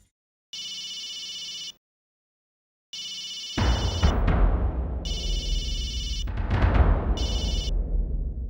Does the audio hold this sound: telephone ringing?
yes